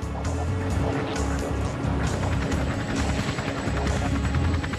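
A helicopter carrying a high-frequency radar for a landing test at Edwards Air Force Base in California, its rotor and engine making a steady, loud, continuous roar with no voices.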